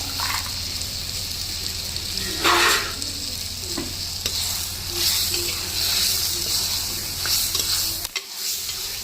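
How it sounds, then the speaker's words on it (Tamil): Half a kilo of chicken sautéing with softened tomatoes in a pan for seeraga samba chicken biryani, a loud, continuous sizzle and hiss close by, with occasional scraping stirs. "சிக்கன் கொஞ்சம் நேரம் நல்லா வதங்கட்டும்."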